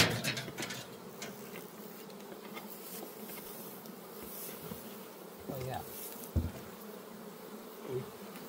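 Honey bees buzz around an open hive during a move and the fitting of a Ross Round super, a steady low hum close by with a few louder passes and light handling knocks.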